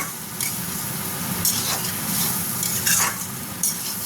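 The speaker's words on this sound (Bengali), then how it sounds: "বেগুনটা দিয়ে আমি নাড়িয়ে নেবো ভালো করে, বেগুনটাও যাতে মশলাটা ভালো মতন মাখা মাখা হয়ে যায়।" Eggplant stirred into spiced curry for a pabda fish jhol, sizzling in the pan: a continuous close frying hiss with a few louder scraping strokes of the spoon, and no voices.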